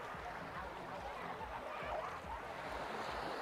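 Gentle sea waves wash onto Bình Sơn beach in Ninh Thuận as a soft, continuous broadband rush, faint and steady throughout.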